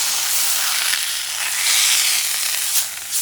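Flank steak sears hard in a hot pan, a steady bright sizzle with crackling swells that run unbroken for a few seconds and carry no talk.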